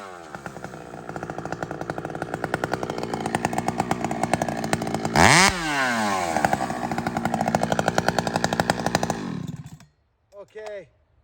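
A 70cc hot rod chainsaw, a 390, with a hand-filed chain rips through wood in a loud, sustained buzzing run with rhythmic pulsing, then drops off near the end as a voice talks briefly.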